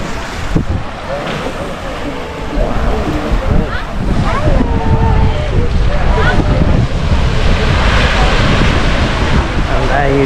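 Ocean waves wash and roll steadily at Padang Padang Beach in Bali, with wind buffeting the microphone and people talking nearby throughout.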